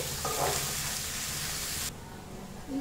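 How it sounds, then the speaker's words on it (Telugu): Sliced onions frying in oil in a pan for a restaurant-style chicken curry, a steady close sizzle that drops sharply softer near the end, with a faint stirring scrape. "ఈ ఉల్లిపాయలను గోల్డెన్ బ్రౌన్ కలర్ వచ్చే వరకు వేయించుకోవాలి"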